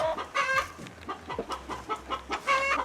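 A chicken clucks close by in a short series of quick, rhythmic calls against a quiet backyard background.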